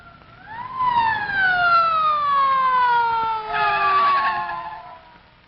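An ambulance siren wails loud and close, a long sweeping tone that rises and then slowly falls over several seconds, swelling again near the end with road noise beneath.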